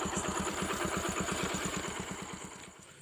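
A motorcycle engine idles close up with an even, rapid chugging pulse that fades slightly toward the end, no voices.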